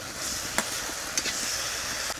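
Fried potatoes being stirred into sizzling spice paste in a pan, for a sour shol fish curry with raw mango: steady close hiss of frying with a few sharp scrape clicks of stirring, no voices.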